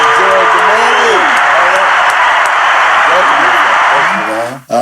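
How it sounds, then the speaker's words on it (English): Audience applause fills a hall with steady, dense clapping that carries on loudly throughout, while a voice talks over it, before the clapping cuts off abruptly at the very end. "let's give another hand of applause"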